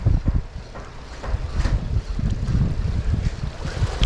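Strong gusty wind over rough, wavy water buffets the microphone in rough bursts and roars, with a choppy low rumble and possible water slapping underneath.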